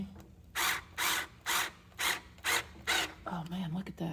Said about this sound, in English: Put my drill on forward.